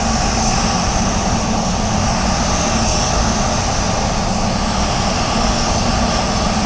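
A DeVilbiss DV1 paint spray gun spraying continuously, a loud, dense, unbroken hiss of air and atomized paint close by with no talk.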